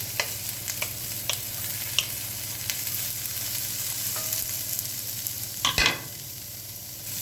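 Onions frying in a pan for beef and onions in oyster sauce, a continuous close sizzle with occasional soft stirring clicks and one brief louder scrape near the end.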